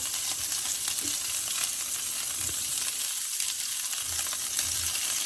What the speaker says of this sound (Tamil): இப்போ கிழங்க முடிஞ்ச அளவுக்கு தனித்தனியாக இருக்கிற மாதிரி போட்டு நம்ம வறுத்ததும் நிறுத்தி எடுத்துட வேண்டியதான்